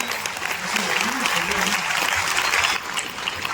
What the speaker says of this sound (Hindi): जोरदार तालियां बजाएंगे हमारे सभी साथी।